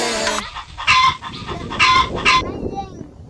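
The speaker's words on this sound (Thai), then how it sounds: "ไก่แย่งกัน" Hens squabble and cluck in a backyard laying coop, several sharp squawks in quick bursts close by, with talk and movement beneath.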